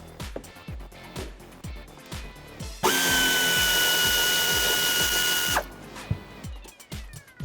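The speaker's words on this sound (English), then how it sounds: "All right, so I have my air ratchet right here." A 3/8-drive pneumatic air ratchet with a deep 15mm socket loosens the shock top nuts on a 1994-2004 Mustang. Rhythmic ratcheting clicks give way to a loud, sustained whirring burst of about three seconds, then the clicking returns.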